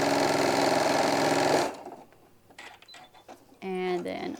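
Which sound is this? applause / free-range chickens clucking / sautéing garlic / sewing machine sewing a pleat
sewing machine sewing a pleat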